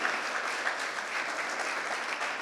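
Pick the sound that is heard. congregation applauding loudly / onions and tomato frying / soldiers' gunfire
congregation applauding loudly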